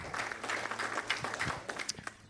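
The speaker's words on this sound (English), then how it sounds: "Applause." Audience applause at a pitch event for investors, a soft, fairly distant patter of clapping hands that swells briefly and fades.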